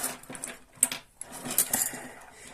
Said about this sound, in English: This is my titanium spoon